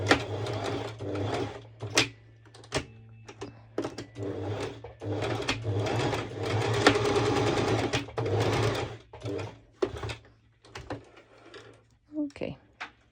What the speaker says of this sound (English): now I'm going to do a straight stitch over this little edge